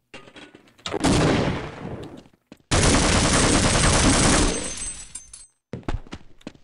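Bursts of loud gunfire from Half-Life, two long sustained volleys of rapid shots separated by short pauses, with smaller scattered shots before and after.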